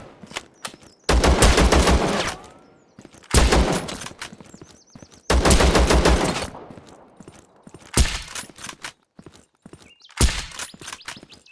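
Gunfire rattles in the video game Zero Sievert, with five loud, close bursts of rapid automatic shots separated by short pauses.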